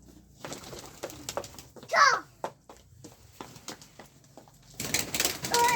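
A pigeon coos in a village courtyard while it is being caught, giving a few short warbling calls amid children's voices and household chatter.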